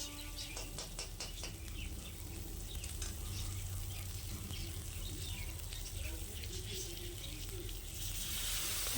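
Mustard masala for pabda fish, with Kashmiri chilli powder and chopped chillies, fries in a pan with a soft, constant sizzle, joined by light scraping taps of a spoon as it is stirred.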